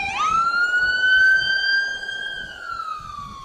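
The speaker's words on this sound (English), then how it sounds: "when it was right next to our microphone, the siren turned on" A sheriff's car siren switches on right beside the microphone: a loud, close electronic wail rises sharply, then holds a high steady tone with harmonics over faint background rumble.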